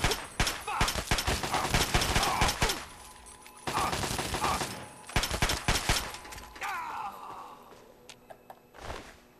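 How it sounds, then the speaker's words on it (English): Enemies shooting at the player in Fallout 3 produce loud, rapid bursts of gunfire in clusters, dropping off to scattered single shots and sparse pops toward the end. "Who's shooting me?"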